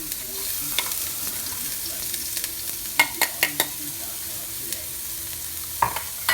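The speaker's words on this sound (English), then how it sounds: "We're going to cook the ginger first because it tends to not burn." Ginger fries in smoking-hot olive oil in a wok, a steady bright sizzle broken by several sharp utensil scrapes and clanks as it is stirred, close and loud with no talking.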